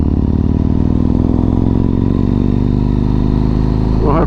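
A Yamaha MT-01 motorcycle engine drones loud and steady with a continuous low rumble through Cheddar Gorge, rising in pitch near the end as it revs up.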